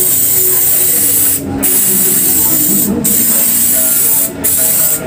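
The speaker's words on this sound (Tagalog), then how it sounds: "So, ginagamitan natin ng spray paint para sigurado dahil yung crease na sa likod." Clear spray paint hissing from an aerosol can onto an aircon unit during an installation in San Pedro, Laguna, in three long continuous bursts separated by brief pauses, loud and close.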